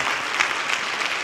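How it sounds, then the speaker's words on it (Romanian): A conference audience applauds in a close, dense, steady wash of clapping with no pauses. "dacă vă doriți și vă place ceea ce facem, să-i și aplaudați"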